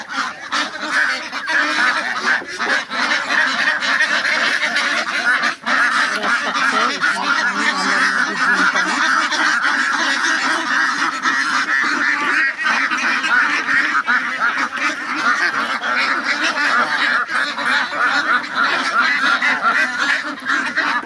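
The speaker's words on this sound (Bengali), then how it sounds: "এই হাঁসগুলো বিক্রি হবে।" Farm ducks being raised for sale call in a dense, continuous flock, honking and quacking nonstop at a steady loud level throughout, with no talk over them.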